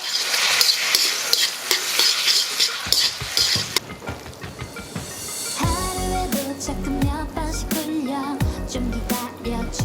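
Pasta tossed with red pepper flakes in a wok or skillet, a loud close sizzle and rapid scraping clatter that shifts into rhythmic metallic knocking and tossing, heard alone without any voices.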